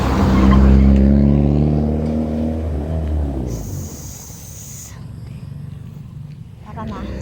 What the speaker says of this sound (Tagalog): May kotse. May Mitsubishi.